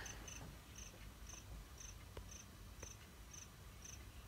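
A single cricket chirps indoors. Its short, bright chirps come evenly about twice a second over quiet background hiss, faint and steady, with no talking.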